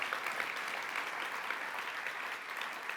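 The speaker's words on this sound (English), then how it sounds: "Please give her a round of applause for that." Audience applause fills a room at an agritourism conference, a steady dense clapping that holds evenly throughout with no voices over it.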